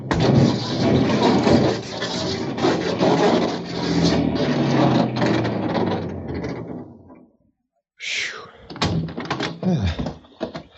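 A radio-drama effect of a car scraping along the side of a hill to slow down: a rough, grinding rasp runs for several seconds, fades into a brief silence, then returns in shorter scraping bursts, with voices mixed in.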